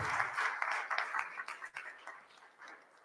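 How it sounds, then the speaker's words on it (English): A crowd at the opening ceremony of the Chennai Grand Masters 2023 chess tournament applauds the Tamil Nadu government, with steady, fairly faint clapping that thins toward the end. "let's have a huge round of applause for the Tamil Nadu government"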